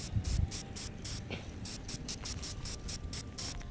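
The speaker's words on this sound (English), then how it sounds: "So I'll tape this up and take it outside and spray paint it." Short repeated bursts of spray paint hiss in a quick uneven rhythm, close and fairly quiet, with a can rattling between sprays.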